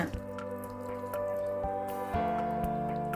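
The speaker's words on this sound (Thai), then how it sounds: "ตามด้วยน้ำปลาค่ะ" Fish sauce drips and trickles into a pot of fresh bamboo shoot curry with mushrooms, short liquid drops over a steady tonal background hum.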